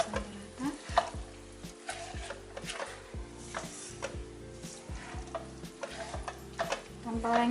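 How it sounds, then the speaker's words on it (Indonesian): Cumin, coriander, pepper and salt being stirred into a cooking pot of lamb rib mandi rice, with repeated scraping strokes of a utensil against the pot over a steady sizzle, close and moderately loud. "Aduk dulu sampai rata."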